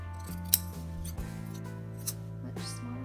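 Scissors cut through the fabric of a dress being refashioned, giving a few crisp, close snips over a quiet steady background hum.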